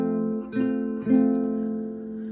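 An acoustic guitar rings out as strummed chords shift from a C shape, two strums about half a second apart with sustained ringing between, close and moderately loud, no talk over it.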